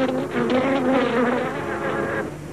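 A dense swarm of bees buzzes loudly and continuously at a roosting place, the bees clinging to dead vines in a thick droning hum.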